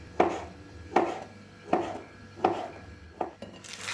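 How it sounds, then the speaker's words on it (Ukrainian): A knife slicing crab sticks into rounds on a cutting board, five crisp, evenly spaced chops about three quarters of a second apart, close and clear, with no talking. "150 грам крабових палочок нарізаємо кружочками."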